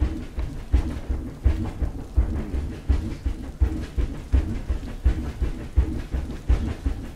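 A small zoo ride train runs along its rails, heard from close beneath the cars: a steady low rumble with regular rhythmic clickety-clack bursts as the wheels pass over rail joints.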